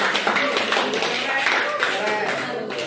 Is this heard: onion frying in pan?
no